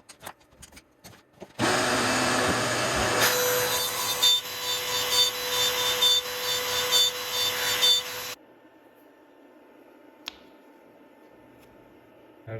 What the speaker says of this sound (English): Now I'm going to set up my cut file and we'll watch the machine cut it out.